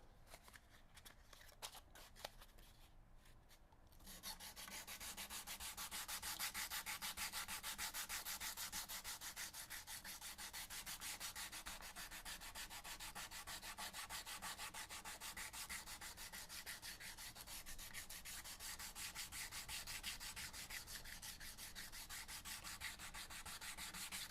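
Guitar X-braces are sanded by hand with a steady, close, continuous rasping rub, preceded by a few seconds of quieter handling taps before the sanding settles into an even rhythm.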